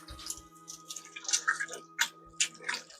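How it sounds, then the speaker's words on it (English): Jasmine rice pours into a stock pot of cabbage roll soup, making faint scattered patters and small splashes over a low steady hum. "It's time to add our rice, y'all."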